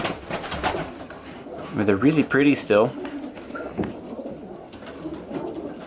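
Racing pigeons coo in a loft, their soft repeated calls rising clearly midway between stretches of a person talking nearby.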